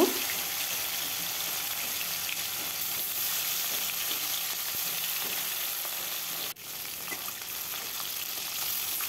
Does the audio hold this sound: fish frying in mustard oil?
yes